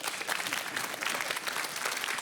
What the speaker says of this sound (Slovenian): Bravo, en aplavz.